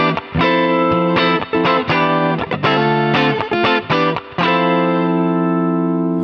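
Guitar-like notes and chords run through an AudioScape 76F 1176-style clone compressor with reduced attack, played in rhythmic bursts with distorted, effected sustain and a ringing final chord, with no voices.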